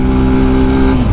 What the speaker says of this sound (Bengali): আপাতত উঠতেছি সেকেন্ড গিয়ারে।